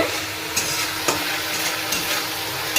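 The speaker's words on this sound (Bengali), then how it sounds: "তারপর একটু কষিয়ে নিচ্ছি আদা আদা জিরে বাটাটা" Ginger and cumin paste sautéing in oil in a pan for restaurant-style palak paneer: a steady close sizzle and fry, broken by a few faint spatula taps and stirs against the pan, with no voices.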